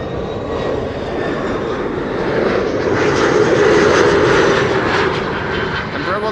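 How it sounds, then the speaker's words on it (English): KLM-operated Embraer 170 jet airliner arriving from Norwich, a steady broad engine roar at moderate distance, swelling slightly toward the middle and holding through, with a voice talking faintly underneath. "Embraer 170 flying on behalf of KLM, arriving from Norwich."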